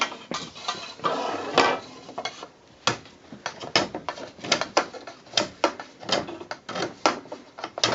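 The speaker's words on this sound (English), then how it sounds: "Now we need to clean them up with a sharp knife blade." A sharp knife blade scraping loose adhesive from the end of a Gardiner Smart Clamp section, giving a series of close, dry scraping strokes and clicks in an irregular rhythm, alone without talk.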